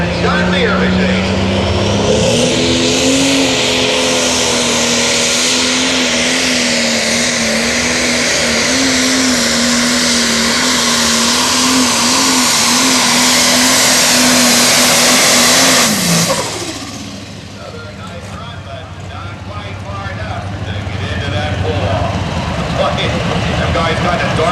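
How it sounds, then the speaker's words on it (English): A John Deere super stock pulling tractor nicknamed the Iron Dragon roars under full load at a tractor pull, a loud sustained engine drone lasting about sixteen seconds before cutting off sharply, with a commentator talking over it. "The green flag for Larry Schultz. Belleville, Ohio, the Iron Dragon, the John Deere machine."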